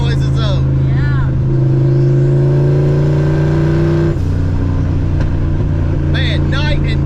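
Turbocharged Fox body Mustang with HCI revving hard, a loud steady engine drone that climbs in pitch and drops off, with quick fluttering blow-off valve bursts near the start and end, and people talking over it.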